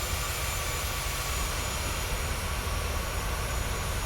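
Jet engines of a Boeing 737-900 in Microsoft Flight Simulator spool up for taxi, a steady, dense broadband roar with a faint high whine, loud and continuous throughout with no talking.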